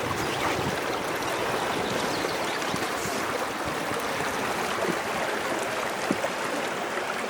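A river runs in Utawala, its steady broadband rush of flowing water filling the whole stretch evenly, with no voices and only a few faint splashes.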